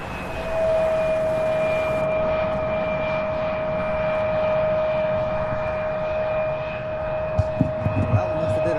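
A Mesa Airlines CRJ-900 regional jet at Louisville International Airport gives off a loud, steady high-pitched engine whine with a constant rushing roar, ending in a few sharp knocks near the finish.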